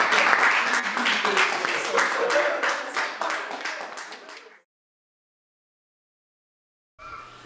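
An audience applauds a comedian at a live show, with dense clapping for about four and a half seconds that fades out, then silence.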